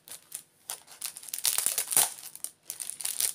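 Paper wrapper crinkles and rustles in several close, uneven bursts as a card is worked free from a stack of playing cards.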